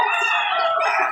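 A rooster crows loudly and close at hand at a poultry market in Padre Garcia, Batangas. A single short, harsh, strained crow.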